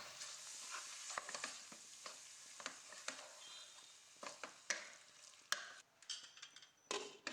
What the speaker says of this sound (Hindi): उसके बाद इसमें टमाटर जाएंगे।